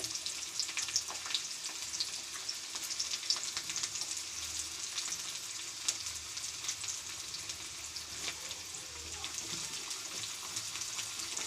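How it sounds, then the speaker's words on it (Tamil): Small shallots fry in a pan for urad dal sambar, giving a steady crackling sizzle with fine popping throughout, fairly quiet and with no voices. "வெங்காயம் நல்லா வதங்கணும் வெங்காயம் நல்லா வெந்து வருது"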